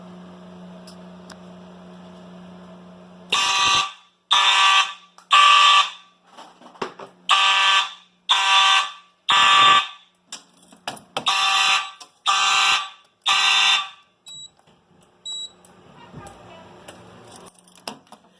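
A loud Simplex fire alarm panel blares in a series of sharp pulsing bursts, about a dozen in a row, during a system test, following a low steady electrical hum.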